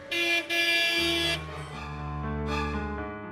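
Traffic jam on a city road with car horns honking: two loud horn blasts up front, then a sustained lower honk and another brief toot, close by and without talk.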